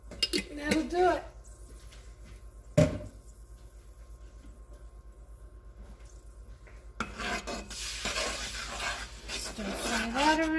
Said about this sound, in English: Stir fry that around.